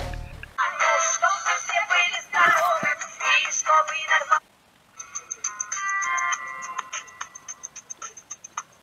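An F+ B280 button mobile phone plays its ringtone through a small speaker, a bright electronic melody of quick repeated notes, a brief pause, then a second run of staccato beeps.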